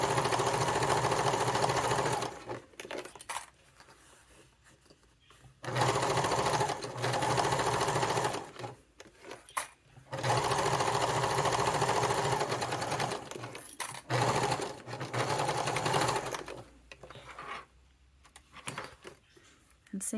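A sewing machine basting with a long stitch length on a Scotia Satchel bag runs in several loud, steady bursts separated by short pauses, with a voice speaking in between.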